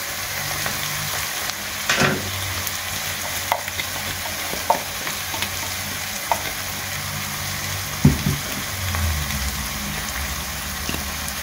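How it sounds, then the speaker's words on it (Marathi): Onions frying in hot oil give a steady close sizzle with scattered louder clatters of stirring and scraping, including a sharper knock near the middle and a bumpier stretch toward the end; no one speaks. "आता हिंगा ऑनियन चांगली बरे फ्राय करून घेता"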